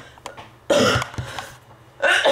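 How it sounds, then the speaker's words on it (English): A man coughs up close, giving two short harsh bursts with a throat-clearing rasp and small noises in between. "I just need to cough there."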